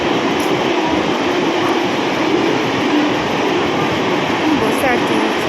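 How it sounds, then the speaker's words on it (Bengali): A through train runs past a station platform on a hot day in Memari, a steady loud roar of rail noise with wheels rumbling over the track for the whole stretch, as if heard from close by. "থ্রু ট্রেন যাচ্ছে"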